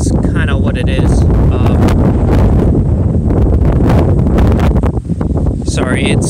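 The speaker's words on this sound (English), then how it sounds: "it's gotten quite windy" Strong gusts of wind buffet the microphone at a house building site, a loud continuous roar with rustling bursts and faint talk underneath.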